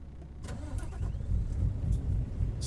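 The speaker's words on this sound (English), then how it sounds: "That's Euro 5, so that's a European engine" A Euro 5 truck engine in American Truck Simulator, fitted to a Peterbilt 359 mod, cranks and catches into a low, close rumbling idle with a few clicks at the start and no talking.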